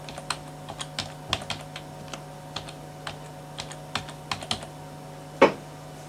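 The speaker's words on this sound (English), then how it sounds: "I will type in a password." Irregular keystrokes typing a password on a computer keyboard, close and fairly quiet, with a sharper key press near the end and a steady low hum underneath.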